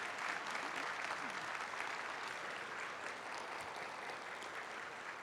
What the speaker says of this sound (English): Please join me in a round of applause for our student performers.